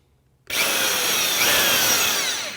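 A power drill with a Forstner bit suddenly whirs into wood at close range, a loud, sustained grinding bore with rasping cutting noise that holds steady before easing slightly.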